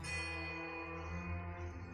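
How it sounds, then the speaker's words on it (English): A single bell in the video game Pillars of Eternity II: Deadfire rings with a long, sustained, softly decaying metallic tone, quiet and alone. "The tolling of a single bell joins the chorus of birdsong."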